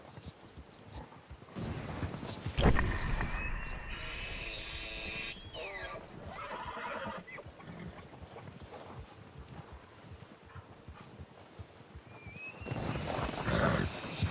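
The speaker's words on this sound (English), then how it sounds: "a noise that the horse makes that sounds like a panting dog" Horse hooves clop steadily in a video game, Red Dead, alongside snorts and breathy huffing like a panting dog, with occasional louder bursts and ambient outdoor noise throughout.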